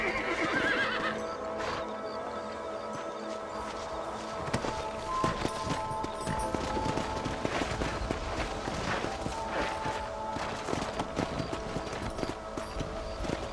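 Horses gallop in the video game Red Dead Redemption with steady clip-clop hoofbeats and an occasional neigh, over a busy background of rustling and ambient noise.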